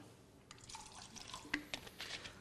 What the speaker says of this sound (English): I'm pouring some fresh samples here.